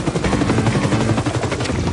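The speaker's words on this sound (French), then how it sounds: "Venez, nous allons prendre mon hélico." Cartoon helicopter from the animated series Totally Spies, a loud, dense rhythmic rotor chop that pulses steadily and close throughout with no break.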